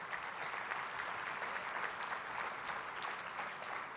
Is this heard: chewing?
no